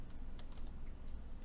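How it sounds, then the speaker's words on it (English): Keys tapped on a computer keyboard while entering a date on a resume form: a quick, irregular run of light clicks, close and fairly quiet over a steady low background hum. "then hit tab, and then type in the date"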